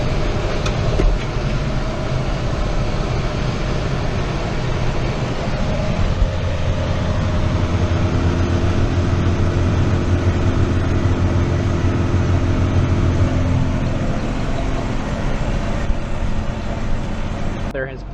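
A truck engine rumbles steadily and loudly throughout while it pulls away in high gear, with a low drone that shifts pitch midway and is joined by wind noise.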